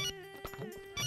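A telephone ringtone plays a bright, melodic ringing pattern, fairly loud and close, with no talking over it.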